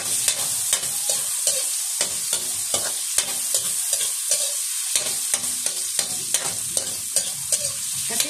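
Ginger and chopped tomato frying in a pan, a constant bright sizzle with regular scraping stir strokes and sharp clinks of the spatula against the pan, close and loud with no talking.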